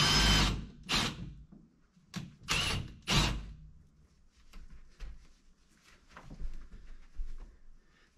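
A power drill revs in several short, loud bursts close by, drilling through a carpeted floor for cable pulling, followed by quieter scraping and rustling.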